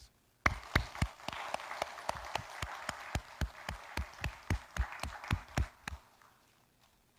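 A church congregation claps in a steady, evenly spaced rhythm of sharp, fairly quiet hand claps that runs for about five seconds and then stops.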